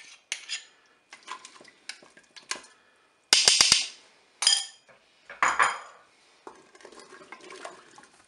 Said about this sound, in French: je vais mélanger jusqu'à temps que le mélange soit bien homogène